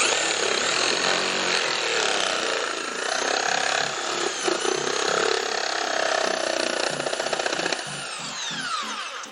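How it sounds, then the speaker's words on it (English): A repaired Bosch jigsaw, fixed after an intermittent fault, runs continuously with a loud, dense buzzing whine. Its pitch shifts slightly toward the end, and a rapid pulsing appears as the blade works. "at least we've got the jigsaw up and running"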